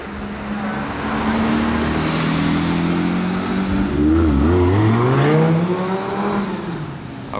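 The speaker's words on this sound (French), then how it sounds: "Ah ouais, le V10 à l'ancienne." An old-school V10 supercar engine revs loud and near in a Monaco street, its pitch rising and falling through several swells over steady background traffic.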